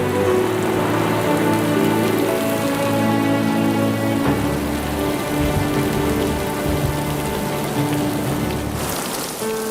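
Steady, heavy rain falls onto surfaces in a continuous dense patter, loud and close throughout, with a low tonal score humming beneath it.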